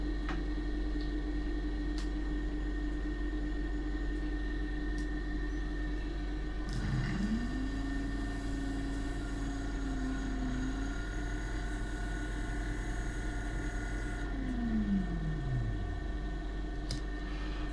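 A 1906 Gamage's 10-volt DC dynamo run as an electric motor spins up with a rising whine that holds steady for several seconds, then winds down to a stop, over a constant background hum.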